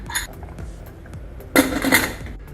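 Metal lid set onto a pressure cooker in a home kitchen, a few light clinks followed by a loud, bright clattering metallic clang near the end, close up with no talk.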